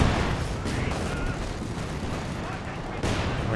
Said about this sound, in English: This machine gun holding the line well. Oh, but he's calling in the mortar cover.